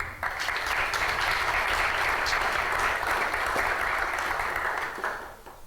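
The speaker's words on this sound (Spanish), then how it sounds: "Un aplauso, por favor." An audience at a university law lecture on judicial reform claps for an introduced magistrate, a full, steady round of applause that swells quickly, holds for several seconds, then tapers off.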